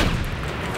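An explosion in the video game Battlefield 5 rumbles heavily, a dense low boom that fills the short moment without any voice over it.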